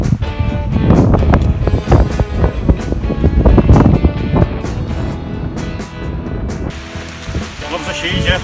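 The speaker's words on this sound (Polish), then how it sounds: "Pogoda kiepska, wiatr wieje." Gusty wind at a rally stage in the Sudety mountains buffets the microphone in loud, rumbling bursts that ease off toward the end.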